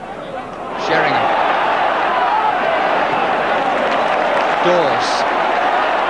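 A football crowd at a Millwall versus Liverpool FA Cup fourth-round match swells into a loud, sustained roar of applause, with a commentator talking over it.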